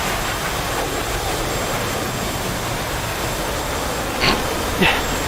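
Spitfire aircraft engine in the DCS flight simulator, a steady broadband roar droning throughout with no speech, plus two brief louder bursts near the end.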